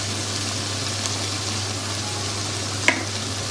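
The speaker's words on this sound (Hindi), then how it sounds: "फिर इसको हमने अच्छे तरीके से भुनाई करनी है चिकन की" Chicken frying in a pan with ground black pepper for a kaddu gosht dish, a steady soft sizzle holding evenly throughout with a brief louder stir or clatter near the end.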